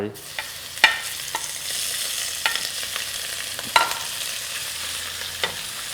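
Shrimp fry with garlic in a pan, a soft continuous sizzle broken by sharp clinks and scrapes of a utensil stirring, close and moderately quiet.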